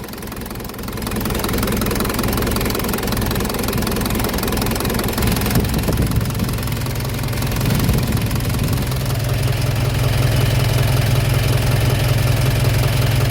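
Used Hino FC six-wheel dump truck engine idling loud and close, a steady knocking diesel rumble that runs throughout and deepens slightly partway through.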